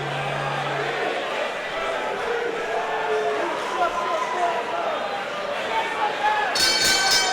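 A ringside bell clangs near the end to start a wrestling match, a short bright metallic ringing. Before it, a steady crowd roar and continuous commentary fill the arena.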